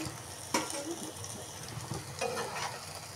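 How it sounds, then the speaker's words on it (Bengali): Pieces of sweet pumpkin frying in a pan over low heat give a steady close sizzle, broken by a few scraping stirs and utensil knocks. "আবার কম হিটে 5 মিনিটের মতো ভেজে নেব"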